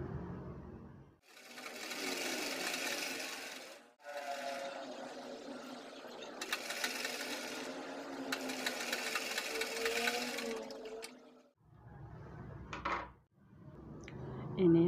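Sewing machine stitching a child's dress, running in several long bursts of whirring motor noise separated by short pauses, close and fairly loud.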